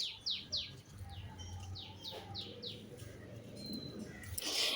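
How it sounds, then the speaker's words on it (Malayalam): Several birds chirp among morning trees at a home, a run of quick bright calls at first, then scattered tweets over low background noise and a rising rustle at the end. "ഇവിടെ രാവിലെ കിളികളുടെ നല്ല സൗണ്ടായിരിക്കും കേട്ടോ"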